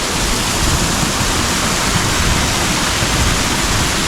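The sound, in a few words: river and waterfall in Puck's Glen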